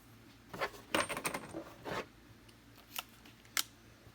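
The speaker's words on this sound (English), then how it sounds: "Screws going back in." Small metal screws being put back into the air filter housing of a 2014-2018 Chevy Silverado with a 5.3 engine make faint clicks, taps and brief rattles, close by and sparse, with quiet gaps between.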